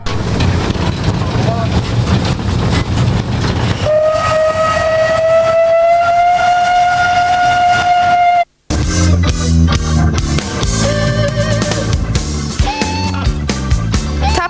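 A long horn-like whistle sounds over rumbling machinery as a train departs, followed by a brief cut and then loud music with rhythmic beats.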